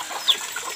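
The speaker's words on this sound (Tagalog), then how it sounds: "Maraming manok naghihintay ng budbud." Chickens in the Philippine countryside, waiting for feed, cluck and chirp briefly in a short, faint snippet, with a couple of high squawks.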